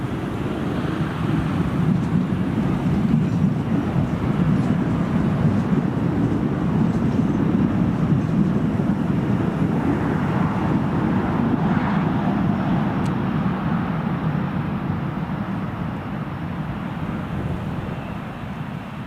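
An Aer Lingus Regional airliner at Newcastle Airport on a stormy January day, heard as a loud, sustained low engine roar mixed with wind buffeting the microphone. The roar eases slightly toward the end, and no one speaks.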